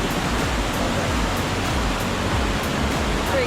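A waterfall roars in a gorge, a loud, unbroken broadband rush of falling water filling the space without pause.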